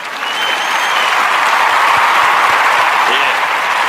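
Steady applause from a crowd, continuous and fairly loud throughout, with a dense wash of clapping and no break.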